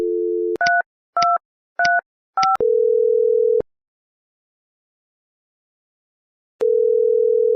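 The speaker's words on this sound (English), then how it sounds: "Dial Maria's extension 3235." A Mitel 5360 IP phone dialing an extension: a steady dial tone, then four short, evenly spaced keypad tones, then a longer tone, silence, and the tone returning. Clear and close, with no voices.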